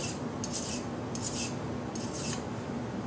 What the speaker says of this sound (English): This is my normal speed when I sharpen my knives